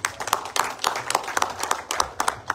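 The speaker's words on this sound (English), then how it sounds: "Another big round of applause for our guests." Sparse, uneven clapping from a small audience at a youth gathering in Eswatini, hands striking in loose bursts at close range with no steady rhythm.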